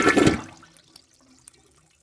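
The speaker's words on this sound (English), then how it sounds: "All that was left to do was flush the toilet and wash my hands" A toilet at a crowded house party flushes in a loud, close rush of water that fades within half a second, leaving a few faint drips and trickles in the quiet bathroom.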